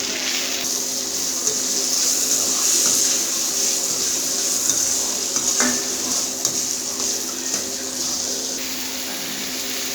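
Tomatoes cook with rock salt in a pan on a low flame while a utensil stirs them. There are soft scraping and clinking sounds over a steady sizzle, close by, with no voices.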